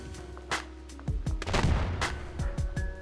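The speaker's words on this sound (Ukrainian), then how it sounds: "він гранати кидає клас" Grenades thrown and exploding in the Standoff 2 shooter game, a run of sharp bursts and gunfire-like cracks at close range over a low steady hum, with no voices.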